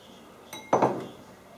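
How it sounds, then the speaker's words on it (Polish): Potatoes dropped into a pot of Polish pea soup, a faint knock followed by a louder clattering plop and brief splash, then quiet. "Wrzucam ziemniaczki"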